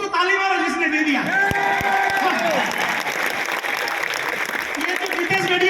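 Audience applause with cheers and whoops at a network marketing seminar in India, steady and loud throughout, with someone shouting over it.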